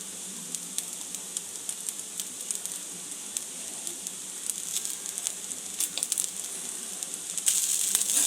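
Vegetable pulao rice sizzling in a pot after a spoonful of ghee goes in, a steady bright crackle and hiss that holds throughout and swells louder near the end, heard close with no voices.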